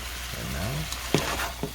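Chicken frying in a pan with sugar, fish sauce and pepper is stirred, giving a brief soft sizzle with a few sharp utensil scrapes against the pan.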